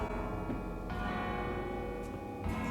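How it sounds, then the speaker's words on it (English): A church bell rings steadily, slightly distant, with strikes recurring across the short stretch and no voices. "What a bell is this?"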